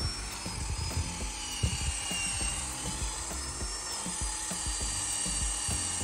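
A drill runs continuously with a high, steady whine while driving through wood on a 16-foot wooden footbridge build, with irregular low knocks and bumps underneath, close and loud throughout.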